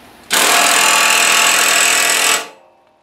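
A Kobalt 24V brushless 1/2-inch impact wrench fires a single loud, continuous hammering burst of about two seconds, then winds down into quiet.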